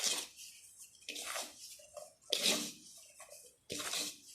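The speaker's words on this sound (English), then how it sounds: "Sprinkle the water." Water splashes and patters in short bursts into rice flour, four separate sprinkles with quiet pauses between, close and fairly soft.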